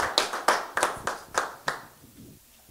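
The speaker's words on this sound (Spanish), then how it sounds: "la vamos a recibir aquí al bajar con un aplauso a nuestra hermana Leslie" A church congregation at a baptism claps by hand in a sparse, distinct rhythm of about a dozen sharp claps, fading out toward the end.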